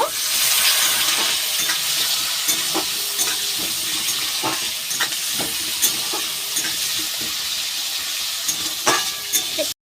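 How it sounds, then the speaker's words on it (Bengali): Onion and tomato with salt fry in a pan, giving a steady bright sizzle with scattered pops and occasional stirring scrapes, close and continuous. "এইবার ভালো করে ভেজে নেব।"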